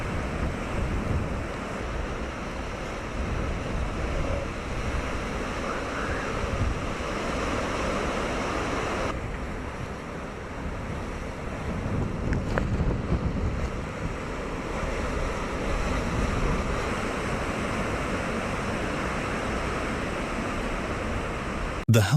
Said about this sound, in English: The storm caused waves to crash against the shore as high as 50 meters.